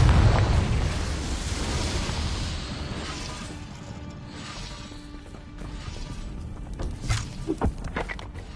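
Confringo fire spell blasting in Hogwarts Legacy: a loud, rumbling explosive burst that fades into crackling debris, with a few sharp impacts near the end.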